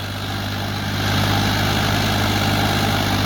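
A tractor with a rotavator hitched behind idles close by, its engine holding a loud, steady low throb that swells slightly after the first second, with no talking.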